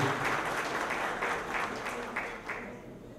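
An audience at a councillors' congress lecture breaks into sustained applause, a dense wash of clapping from many hands that fades slightly toward the end.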